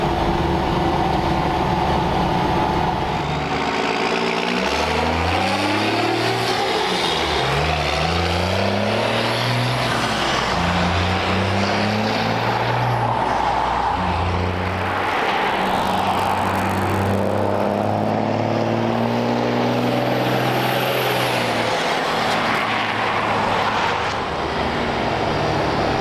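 A Cummins-swapped 1965 Ford F-600 truck with straight exhaust stacks rumbles loudly and continuously, its diesel engine rising and falling through repeated revs and gear changes up close.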